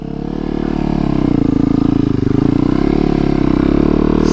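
A 2019 Yamaha YZ450FX supermoto motorcycle being ridden with a steady, loud engine drone that rises slightly in pitch and holds strong throughout, no voices present.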